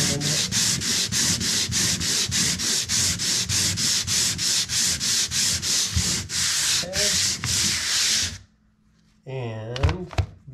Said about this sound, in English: We're just going to lightly sand it.